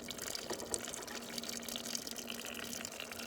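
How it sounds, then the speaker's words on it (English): Hot water poured over dry noodles while the container is turned: a steady, close pouring splash and hiss that runs continuously at moderate level, with no talk. "see how the water's hitting the noodles, the dry noodles, and making them moist while I'm turning this"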